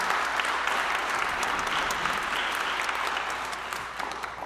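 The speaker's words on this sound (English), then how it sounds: "Can we give them just one more round of applause?" A housing justice community forum crowd gives its candidates another round of applause, a thick, continuous wash of many hands clapping at an even level that eases slightly toward the close.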